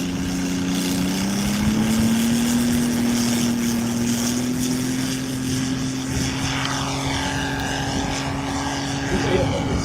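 Skyguy Lysander RC model airplane on its first flight, a steady propeller engine drone with a slowly rising pitch, heard continuously with people talking nearby.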